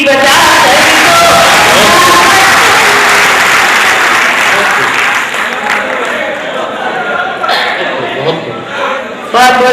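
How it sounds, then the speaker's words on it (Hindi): Loud, sustained applause from a live audience at a Hindi-Urdu poetry recital, with whoops and cheers mixed in, thinning toward the end before a final burst of clapping. "ताली बजा कर दो"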